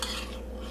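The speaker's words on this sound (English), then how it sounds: "Get it all nice and mixed together." Close-up stirring of a seasoned sweet potato meal prep mixture in a bowl, a steady soft scraping and mixing texture lasting under a second with no voices.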